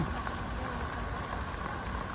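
Steady, dense rain hisses continuously, loud and close, with no breaks or other sounds.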